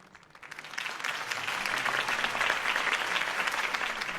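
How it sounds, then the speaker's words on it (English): A crowd at a political rally in the Batman Telltale video game breaks into applause, swelling within a second into steady, dense clapping that holds at a moderate level throughout. "could have heard that applause"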